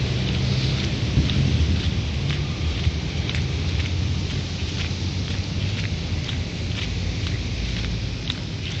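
Steady heavy rain pours throughout, with low rumbling thunder underneath and scattered drops pattering close by.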